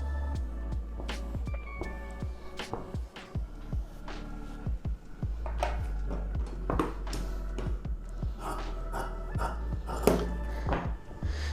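Scissors cut through chudidhar lining fabric in a series of short, close, crisp snips and slides at an irregular rhythm, with a low steady hum underneath.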